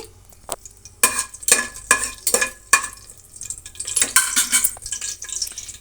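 A cardamom pod, two cinnamon sticks and six cloves fry in oil for veg biryani, with a low background sizzle broken by a series of loud, evenly spaced stirring and scraping strokes in the pan.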